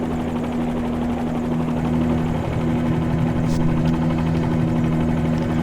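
Helicopter in Microsoft Flight Simulator 2020 at the Maverick helicopter base on the west side of the Las Vegas airport, preparing to lift off: a steady, loud rotor and engine drone with a constant low hum throughout and no talking.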